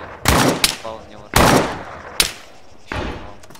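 Gunfire in ArmA 3 comes as four loud, close shots in separate bursts, each a sharp crack with a short echoing tail and a brief pause between.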